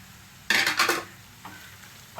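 Green chillies dropped into hot oil in a pan for a mutton paya curry, a loud burst of sizzling and frying that swells twice over about half a second, with stirring scrapes, then settles to a quieter background sizzle with small bursts.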